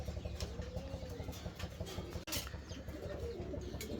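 Fancy pigeons, a male velvet among them, coo softly and repeatedly in a loft, low rolling calls over a constant background hum, with a brief flutter.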